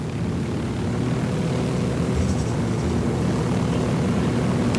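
A helicopter in a video game drones loudly and steadily, a continuous rotor and engine roar that holds an even level throughout with no voices over it.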